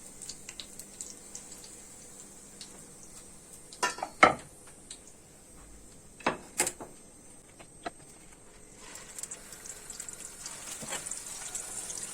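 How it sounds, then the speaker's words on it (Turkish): A quiet, steady sizzle of homemade hamburger patties frying in a pan, with a few sharp clinks of a utensil against the pan. "diğerlerini de aynı bu şekilde kızartıyoruz"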